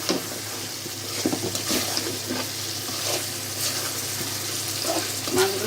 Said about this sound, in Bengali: শিং মাছ, এই যে মাছগুলো দিয়ে দিচ্ছি।